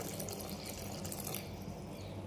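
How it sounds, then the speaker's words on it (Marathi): Water is poured into a pot of cooked dal with tomatoes and salt, making a faint, steady trickle that runs for a couple of seconds with no talking. "पाणी थोडंसं जास्ती घालावं"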